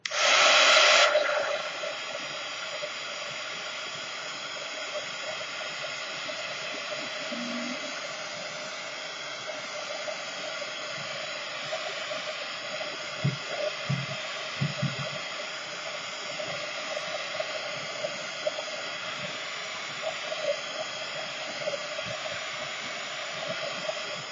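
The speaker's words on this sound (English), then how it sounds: "heat gun. So here we go. Sorry about the noise," A heat gun blows a steady, loud hiss while drying a painted art journal page, running continuously up close, with a few faint taps underneath.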